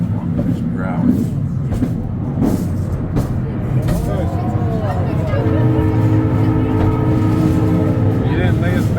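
A cableway tram in Australia travels at about 16 kilometres per hour, giving a steady loud rumbling drone with mechanical whine and tonal hum building midway, as people talk over it.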